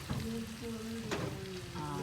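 Pork stir-frying in a pan for shrimp-paste fried rice, a dense steady sizzle with stirring scrapes, close and quiet, with faint background tones.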